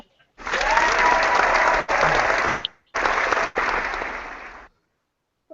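Hand clapping from a small group at the close of a live comic-book panel chat, loud and sustained in several bursts separated by brief pauses.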